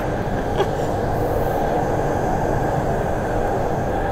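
Passenger train in motion heard from inside the carriage, a loud constant rumble of wheels on track with a brief sharp click early on and a steady hum throughout, no one speaking.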